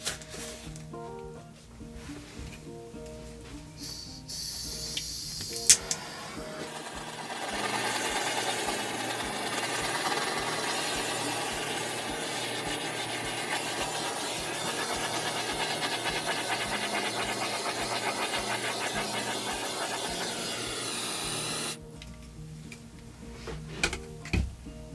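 A handheld torch passes over freshly poured acrylic paintings, giving a steady close hiss that lasts about seventeen seconds before cutting off, with faint background noise on either side.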